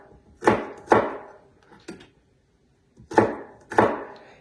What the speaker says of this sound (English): So this is my fresh garlic. That's what I showed you. Let's mince that up.